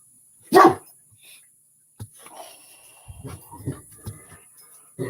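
A dog gives one sharp bark close by, followed by scattered quieter snorts, shuffling and faint rustling in an otherwise quiet room.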